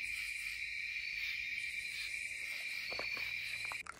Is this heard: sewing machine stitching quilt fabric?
no